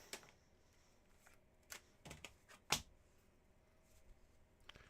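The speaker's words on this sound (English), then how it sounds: "All right, here are your 3 official shuffles." Tarot cards being shuffled produce soft, sporadic papery riffles and sharp snaps, quiet and close, with a few louder bursts in the middle.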